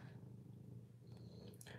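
Cat purring while sitting in a lap, a soft, close, steady rumbling purr with faint rustling and light clicks over it, very quiet and alone.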